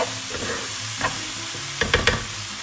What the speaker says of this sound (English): Now I'm going to add all my aubergine slices which I've fried earlier.